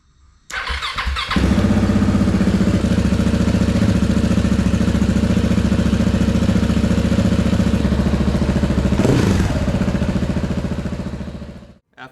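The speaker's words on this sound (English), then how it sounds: "this is what the bike sounded like with just the exhaust upgrade." KTM 690 single-cylinder motorcycle fitted with an Arrow exhaust fires up and settles into a loud, steady lumpy idle, a brief blip partway through, then the engine cuts off.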